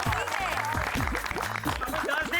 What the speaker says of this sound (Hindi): टप्पू सेना के लिए एक बार जोरदार तालियां